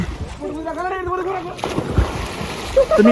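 Splashes of people jumping from a stopped boat into shallow mangrove water, with water sloshing and voices talking over the scene.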